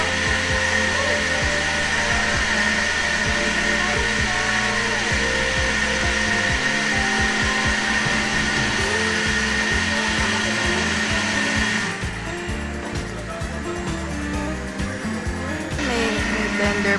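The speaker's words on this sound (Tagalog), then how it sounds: "May blender pala." A blender motor whines loud and steady at close range for the whole stretch, its pitch wavering slightly, then easing a little near the end.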